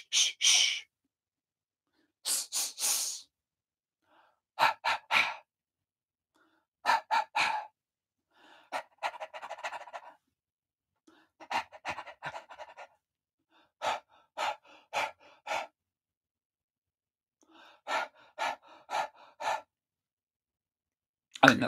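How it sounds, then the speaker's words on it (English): A small home choir practises a panting breathing exercise, copying sharp "shh" breath bursts in quick clusters separated by short pauses, with repeated rounds of breathy exhalations and no sung notes. "We're going to do a little bit of panting. We're going to go shh, shh."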